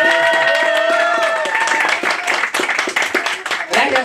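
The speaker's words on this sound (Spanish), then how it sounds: "quiero que me regalen fuerte el aplauso para la festejada" Guests at a birthday party for a girl, with a clown hosting in Oaxaca, give loud, steady clapping while a voice carries over the applause throughout.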